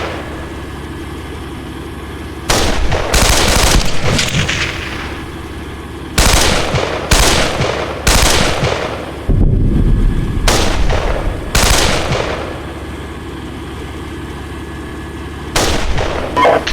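Bursts of gunfire and heavy artillery in the tank simulator game Steel Beasts Pro, set during a Russian attack in northeast Ukraine: loud repeated volleys and booms that come in clusters over a low idling engine rumble, with no speech.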